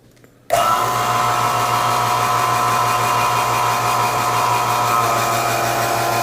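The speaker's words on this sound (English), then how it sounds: "you can hear the vacuum pump change" A vacuum pump on a homemade investment vacuum chamber for lost wax casting switches on abruptly after a short quiet moment, then runs with a loud steady hum and whine.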